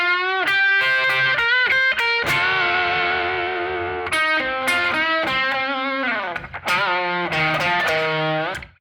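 Distorted electric guitar plays a blues rock lick in the first-position minor pentatonic box, with bent and sliding notes in quick phrases, loud and close with no talking.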